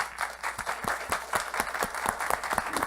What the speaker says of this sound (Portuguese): Vamos aplaudir nossos convidados, por gentileza.